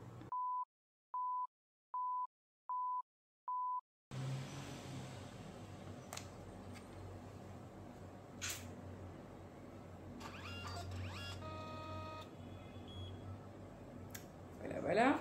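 A Kodak Mini Shot 3 instant camera printer powers on with five evenly spaced beeps, then small clicks and whirring mechanism noises follow under faint room hiss and a voice talking.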